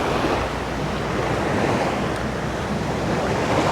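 Surf breaking steadily on Tom Beach, Phu Quoc Island, with wind buffeting the microphone, a continuous broadband wash of waves and gusts with no voices.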